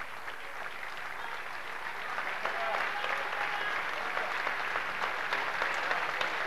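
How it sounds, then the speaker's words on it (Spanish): Crowd applause at the padel world championship final at Hindu Club in Argentina, steady clapping from spectators that grows slightly louder midway, with faint voices mixed in. "un fuerte aplauso para la pareja campeona, Fernando Velasteguín y Juan Martín Díaz"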